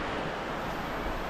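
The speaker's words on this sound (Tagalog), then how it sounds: "Basang ulan dito sa amin ngayon." Steady rain falling outdoors, a dense, continuous broadband hiss with no breaks, loud and close, like a downpour drumming around the microphone.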